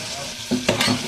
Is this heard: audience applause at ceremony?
no